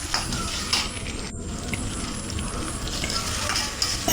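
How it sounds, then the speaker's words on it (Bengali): Bottle gourd peel fries slowly in a pan with a dense, continuous sizzle and crackle, close and fairly loud, with light stirring scrapes mixed in. "এখন এগুলো আস্তে আস্তে করে রান্না করতে হবে, খুব সময় নিয়ে"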